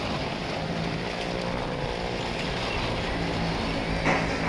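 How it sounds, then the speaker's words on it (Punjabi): Car and motorcycles circling inside a well of death wall at a Dussehra fairground fair in Khanna, giving a continuous loud engine roar and rumble throughout with no talk. "ਤੁਹਾਨੂੰ ਦੇਖਣ ਨੂੰ ਮਿਲੇਗਾ ਕਾਰ ਚਲਦੀ ਹੋਈ ਤੇ ਦੋ ਦੋ ਮੋਟਰਸਾਈਕਲ"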